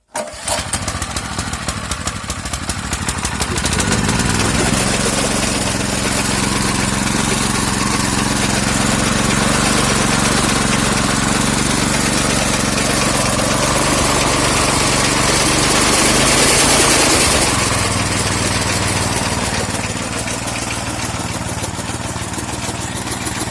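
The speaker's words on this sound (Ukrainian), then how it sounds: "Відкриваємо бензин, закриваємо заглушечку, вмикаємо запалювання." A small petrol engine on a shaker-type potato digger starts and settles into a steady, loud idle with a constant mid-pitched drone and slight rise partway through, close by and with no talk.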